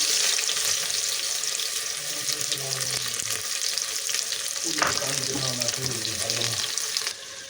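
Steady, loud sizzling of a chopped onion frying in hot oil, a continuous crackling hiss throughout with faint stirring and clinks underneath.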